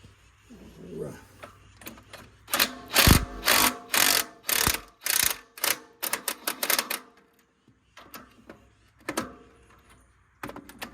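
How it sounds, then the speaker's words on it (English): An impact wrench backs bolts off a Farmall 404 tractor in a series of short, loud rattling bursts of varying length, separated by pauses, close to the listener. "Grab the impact and I'll back them bolts off right there real quick."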